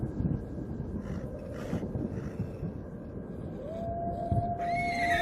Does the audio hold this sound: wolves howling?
yes